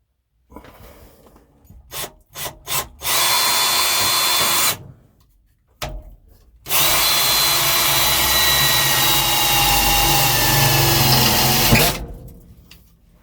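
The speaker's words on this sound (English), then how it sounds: "go ahead and do your thing and drill it out" A power drill revs in short bursts, then bores steadily for two long stretches, loud and close, with a grinding whine as the bit cuts through metal on a 1973 AM General M35A2 truck cab.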